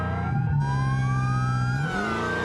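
A police car siren wails in a BeamNG driving game, a 1969 highway patrol style unit, loud and close with a continuous rising and falling electronic tone over a low engine hum, no talk.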